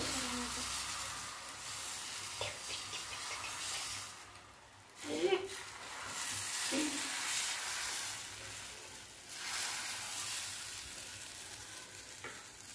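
Dhirde, a thin Maharashtrian batter pancake, frying on a pan over medium-low gas gives a steady soft sizzle throughout, with a few brief scraping stirs, while a person talks over it.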